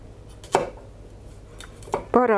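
A knife slices a large tomato into big chunks on a cutting board, giving a few separate soft chops, with quiet moments between them.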